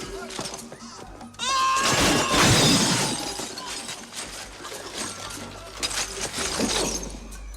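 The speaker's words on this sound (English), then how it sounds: "So as far as broken glass goes, Marked for Death does not disappoint. This display case, for example, is put to very good use by Seagal" Glass display case smashing in a fight scene from the action film Marked for Death: a loud crash and a burst of shattering glass, then tinkling shards and scuffling under film score and background noise.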